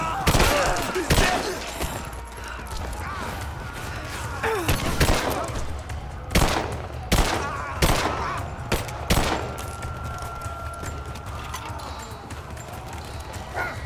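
A firefight in Rise of the Tomb Raider, with repeated sharp gunshots in uneven clusters and bursts over a steady background rumble, while voices talk in places.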